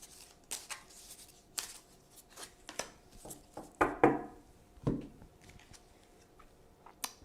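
Tarot cards being shuffled in the hand, a run of crisp riffling flicks and soft slaps, close and fairly quiet, with a couple of fuller riffles near the middle and no talking.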